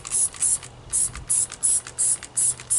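Hot Wheels wheel cleaner sprayed onto dirty car wheels in a run of about eight quick hissing bursts, evenly spaced and close, with no speech.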